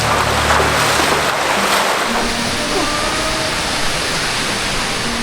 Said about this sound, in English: I'm back near the waterfall